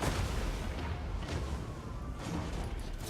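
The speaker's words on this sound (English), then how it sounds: "Our warp lightning cannons are battering down that tower." Skaven warp lightning cannons fire on a tower during a Total War: Warhammer 2 battle, a dense continuous roar of distant booms and crackling blasts layered with battlefield rumble.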